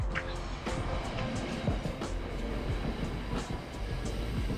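A train rumbles steadily along the track nearby on the coast between Pukerua Bay and Paekakariki, New Zealand, with a low continuous roar and repeated metallic clicks and clacks from the wheels throughout.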